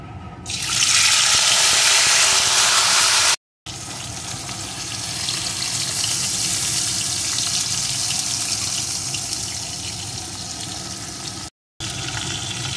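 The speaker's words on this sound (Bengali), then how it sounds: "এখন আমি লবণ হলুদ মাখানো মাছগুলোকে এর ভিতরে দিয়ে প্রথমে ভেজে নেব।" Shol fish rubbed with salt and turmeric frying in hot mustard oil: a loud, steady, close sizzle that runs continuously, broken by two brief cuts to silence.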